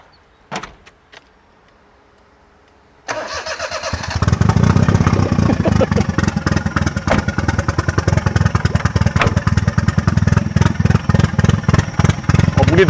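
A Perodua Kelisa with a 270hp turbo engine cranks and fires after a few clicks and a short pause, then settles into a loud, rough, pulsing idle close by.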